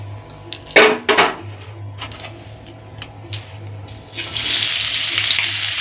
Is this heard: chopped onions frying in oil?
yes